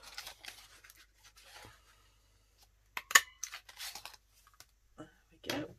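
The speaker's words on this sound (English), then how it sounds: "all I'm going to do is just cut that four out" Scissors snip out a paper number four for a pink stamped card craft, giving a few quiet, close cuts and short paper rustles separated by pauses.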